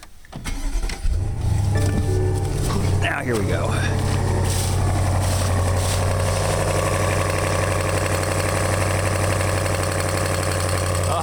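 A 2019 BMW 8 Series engine cranks and fires up with a loud rev, then settles into a steady, deep idle that continues close by; someone speaks briefly just before it starts.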